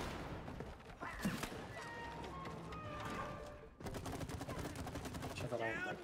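Rapid automatic gunfire fills a war-zone level in the video game It Takes Two, rattling in dense bursts with a brief pause midway, with people talking over it.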